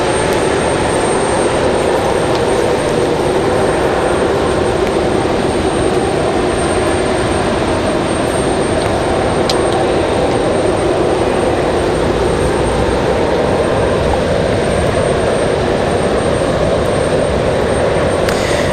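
A Boeing 787 Dreamliner taxis to the gate at Raleigh-Durham airport, its steady jet engine whine and rumble droning loud and unbroken, with no talk over it.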